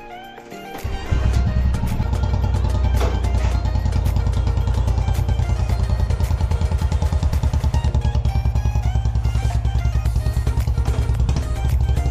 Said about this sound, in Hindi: अब इसको स्टार्ट करते हैं थोड़ा वार्म अप कर लेते हैं